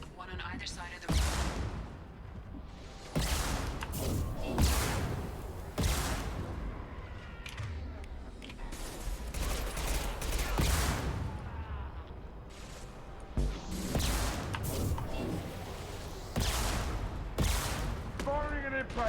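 Bursts of gunfire ring out in Mass Effect 2, a long string of sharp, loud shots and volleys spread irregularly across the scene, with voices calling out between them.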